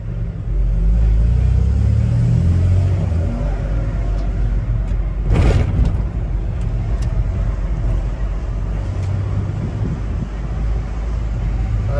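Low V6 engine rumble of a 1999 Ford F-250 pickup truck driving steadily, with road and wind noise and a brief louder surge midway.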